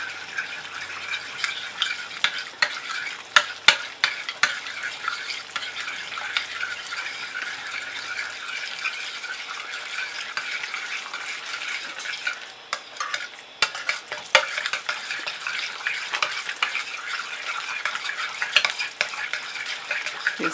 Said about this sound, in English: I only mix about between 50 and 60, sometimes 70 strokes,